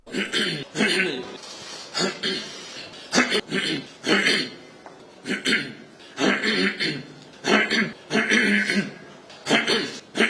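A man coughs and clears his throat repeatedly in short, rough bursts, close up, with brief gaps between them.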